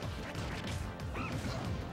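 Smash attacks land in a Super Smash Bros Project M match between Wolf and Diddy Kong, heard as a dense run of crunchy hit impacts and whooshes over steady game noise, loud and continuous throughout.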